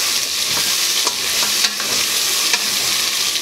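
Garlic frying and sizzling in a pan for chicken noodle soup, a steady bright hiss with a few stirring clicks and scrapes, close and fairly loud, no voices.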